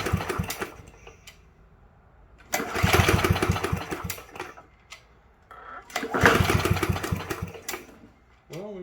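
Yard Machine push lawn mower engine sputtering into loud bursts of running, cutting out, then roaring again nearby in uneven surges.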